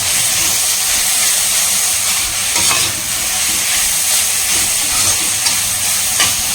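Loud, steady sizzling of Hakka noodles being stir-fried over a high flame, with occasional scrapes and clinks of a spatula against the metal.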